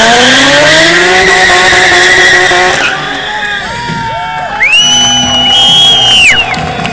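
A powerful drift car slides on a wet track at a drift show in Sofia, its engine revving loudly while the tires squeal in long, wavering screeches. A crowd murmurs faintly behind the close, roaring car.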